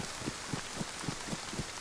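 Steady rain falling in DayZ on the Livonia map, a soft continuous hiss of drops with faint wind, quiet and even throughout with a few low soft thumps recurring at a regular rhythm.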